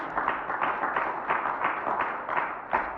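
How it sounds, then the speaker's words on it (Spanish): A church congregation claps in a steady, rhythmic beat, the dense massed hand claps close and moderately loud, with no voices over them. "Fuerte el aplauso a la bendita gloria de Dios"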